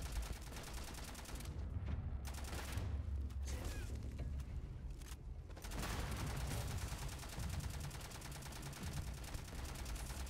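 Rapid gunfire from a weapon in Starfield, fairly faint but sustained bursts of quick shots with brief pauses, over a low background rumble.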